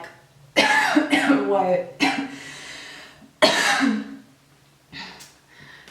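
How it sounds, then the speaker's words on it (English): Several harsh coughs and throat clearing come in a close, loud fit of separate bursts from one woman, with a brief spoken exclamation near the end. "Sorry, I just had some cough attack"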